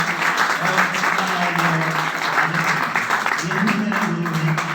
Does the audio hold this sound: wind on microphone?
no